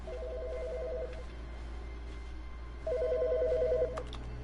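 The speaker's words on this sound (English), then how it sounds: "Oh, the phone's ringing." A telephone rings in The Stanley Parable video game, two clear bursts of electronic trilling separated by a pause, set over a low steady room hum with no talking.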